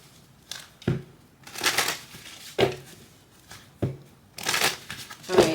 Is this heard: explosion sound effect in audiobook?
no